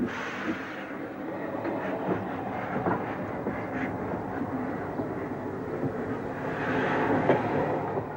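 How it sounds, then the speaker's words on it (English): Two steam locomotives on a heritage railway line in Kent, moving along the track with a broad, steady rumbling roar and faint rhythmic clatter, swelling slightly near the end, with no voices. "After much muscle work, the 2 locos are safely back on the track again."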